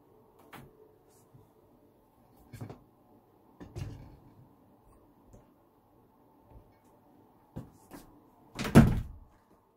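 A closet door fitted with a newly installed doorknob is opened and shut several times, with scattered clicks and knocks of the latch and a louder closing thud near the end.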